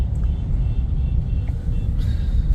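A Hyundai Creta fresh from an engine overhaul runs with a steady low rumble as the car is moved, a continuous close engine drone with no voices.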